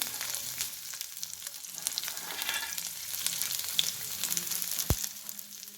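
Ginger, garlic and chilli sautéing in oil in a kadhai, a steady hissing sizzle with faint stirring and one sharp utensil tap near the end, no voices.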